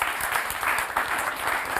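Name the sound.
audience applause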